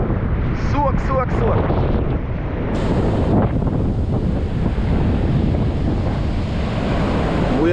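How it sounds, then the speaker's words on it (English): Ocean waves crash on an Australian beach in a loud, continuous roar, with wind buffeting the microphone and faint voices underneath. "Waves are too big, I swear."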